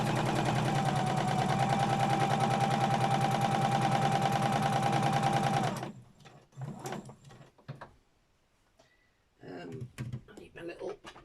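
A sewing machine stitches fabric scraps right sides together in one steady, rapid run of needle strokes for about six seconds, then stops. Scattered clicks and handling sounds follow.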